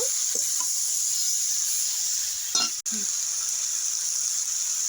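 Water lily stems frying with onions in a pan, giving a steady close hiss of sizzling oil throughout, with a brief stirring clatter near the middle.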